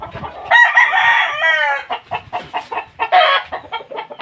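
A rooster crows loudly up close, followed by a run of short clucks from chickens, including Kelso gamefowl.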